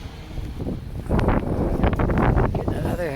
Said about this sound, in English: Getting another puff of wind right here.